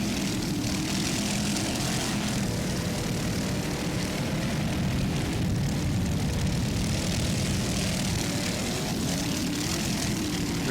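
Offshore racing powerboats in the Super B class at the 1999 West Palm Beach race roar steadily and loudly with no break, the engine drone filling the whole stretch.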